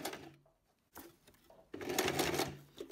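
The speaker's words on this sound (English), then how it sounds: "So we're sewing here. Using a normal straight stitch." A sewing machine runs a straight stitch through sheer net curtain voile, short whirring bursts with a pause between them and a longer, louder run at the end, close by.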